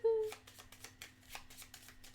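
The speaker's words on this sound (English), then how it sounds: "I just shuffle it in my hand." Game cards riffle and slap in quick, irregular bursts while being shuffled by hand during a Pathfinder Adventure Card Game session, close and fairly soft, opening with a brief tonal beep.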